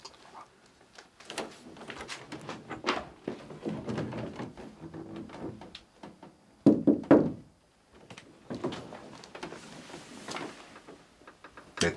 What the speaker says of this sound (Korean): 노크.